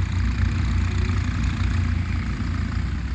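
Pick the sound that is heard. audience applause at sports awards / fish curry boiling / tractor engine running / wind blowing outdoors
tractor engine running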